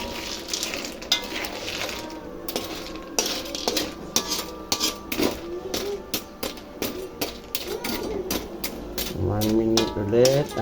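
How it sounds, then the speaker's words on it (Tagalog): Snails simmering in coconut milk are stirred in a pot, with repeated metallic scrapes and clinks of a utensil against the pot over a low bubbling bed, plus a brief voice near the end. "Haluin natin yung suso para maluto naman yung nasa ibabaw."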